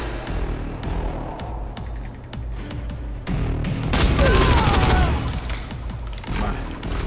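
Rapid bursts of gunfire in the video game Dying Light crackle over a droning background, swelling into a loud sustained volley before easing off.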